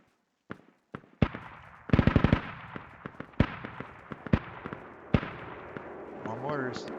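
Heavy NSV machine gun fire in the military shooter Squad: sharp, loud bursts and single reports scattered irregularly over several seconds, with one tight rapid burst near the start and a low rumble building at the end.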